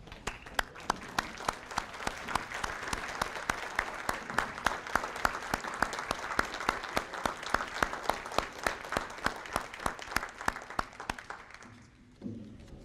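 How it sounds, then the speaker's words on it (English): A banquet hall audience at the Eastern New Mexico Hall of Honors applauds the selection committee, sustained dense clapping with crisp individual claps popping out, fairly loud and steady before tapering off near the end. "please stand and get a well-deserved round of applause"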